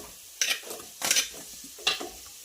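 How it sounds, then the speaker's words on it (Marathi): Onion frying with ginger-garlic paste in a pan, giving short bursts of sizzle and stirring scrapes about three times against a quiet background, with no voices. "त्या मिश्रण आपल्याला छानपैकी फ्राय होऊ द्यायचं आहे मऊ होईपर्यंत"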